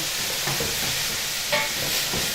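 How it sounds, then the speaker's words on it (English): Vegetables for an economy stew are stirred in a pot with a steady frying sizzle and soft scraping strokes, plus a few clear clinks near the start and middle. No one speaks. "Stir your vegetables, and look at that, that's started the cooking process."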